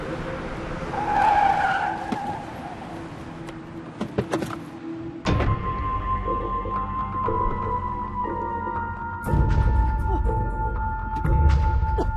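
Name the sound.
car braking to a stop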